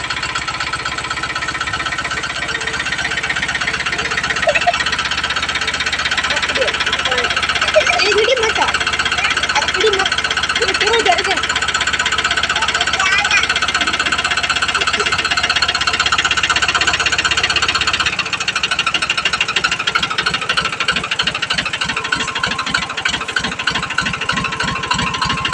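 A tractor engine runs steadily on a grape farm with a girl seated at the controls, a continuous mid-pitched drone with rattling vibration; near the end the idle changes to a faster pulsing knock, while people talk nearby.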